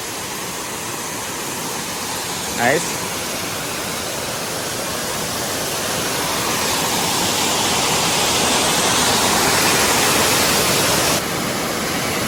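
Three-step waterfall near Manuguru roaring as a steady, loud broadband rush of falling water that swells slightly midway, with a single brief spoken word early on.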